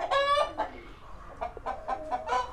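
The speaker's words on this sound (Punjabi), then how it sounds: "ਦੇਖੋ ਜੀ ਮੁਰਗਾ" A rooster on a farm clucking and calling close by, a longer harsh call followed by several short, separate clucks spaced irregularly.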